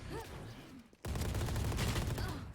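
Rapid gunfire bursts crack out in a Valorant collegiate tournament match, a quick volley followed by a sudden, denser stretch of shots, with a caster's voice talking over the action.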